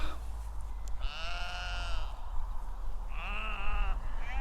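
Freshly shorn sheep and their lambs bleating in two long wavering calls, close by, over a steady low rumble of background noise.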